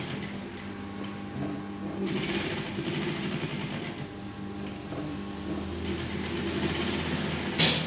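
Sewing machine stitching fabric for a winter garment, rapid mechanical chattering in short bursts separated by brief pauses, close and fairly quiet.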